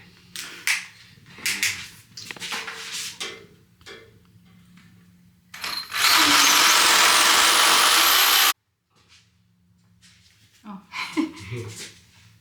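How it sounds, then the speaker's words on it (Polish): A loud, steady power drill whines for a few seconds, enlarging a hole, in between bursts of talking and clattering handling noises in a head spa salon. "Muszę robić tak trochę... powiększać dziurę."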